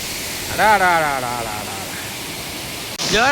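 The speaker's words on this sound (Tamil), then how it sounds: "பாருங்க சூப்பராக இருக்குது அருவி" Waterfall at Salango Temple Park in Malaysia, a continuous broadband rush of falling water filling the scene, with a voice talking briefly over it near the start.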